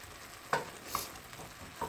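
A vegan egg mixture stirred in a pan, with soft scraping and a few brief utensil clicks over a faint sizzle, close and quiet.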